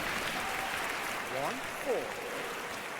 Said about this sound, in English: Crowd starting to get into the game as the rally starts building.